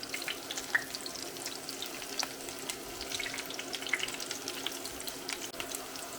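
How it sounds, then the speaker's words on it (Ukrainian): Alfalfa cutlets frying over medium heat in a pan after being flipped, a steady soft crackle and hiss with scattered small pops, close by, with no voices. "перевертаємо і хвилин 5 підсмажимо на середньому вогні з іншої сторони"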